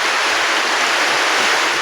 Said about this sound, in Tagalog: ang lakas sobra ng ulan